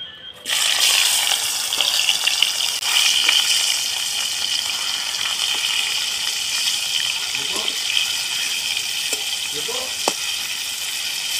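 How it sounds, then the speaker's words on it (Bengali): Snakehead fish frying in hot mustard oil, a steady loud broadband sizzle that starts abruptly and holds for the whole stretch, with a few faint clinks and stirring touches and no talk. "আমি এবার শোল মাছটাকে ভেজে নেব।"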